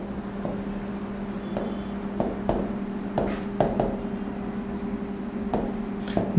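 Writing on a board during a chemistry lecture on bonding: scratchy strokes and light taps come in an uneven rhythm over a steady low room hum. Close and clear, with no speech.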